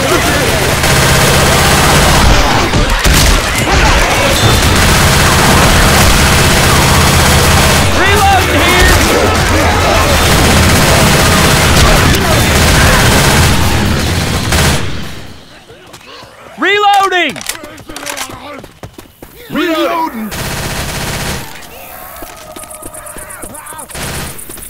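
Dense, rapid gunfire in Left 4 Dead 2 pounds on for about fifteen seconds with shouting voices over it, then drops to a quieter stretch with a few isolated shots and talk.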